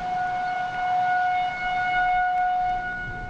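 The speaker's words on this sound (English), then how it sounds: "all of them had to be evacuated when the storm siren sounded." A storm siren at an airport wails during a tornado warning, a steady loud tone with a higher tone weaving in and out, the sound swelling and easing slightly as it rotates.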